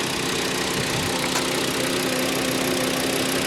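A 2010 Volkswagen Jetta SportWagen 2.5 SE engine idling, a steady low rumble and broadband drone with no change in pitch, loud and close.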